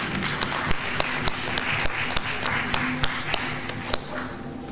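Scattered applause from a small audience at the close of an academic conference session, with a few distinct claps standing out over a soft, low murmur.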